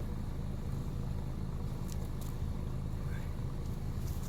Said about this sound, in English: I am running the car right now.